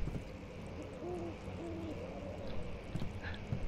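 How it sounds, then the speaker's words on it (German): An owl hoots in the horror video game Amnesia, giving two clear low hoots against a dark ambient game background with no talking. "Ich hasse Eule."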